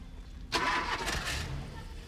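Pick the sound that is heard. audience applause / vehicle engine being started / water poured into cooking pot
vehicle engine being started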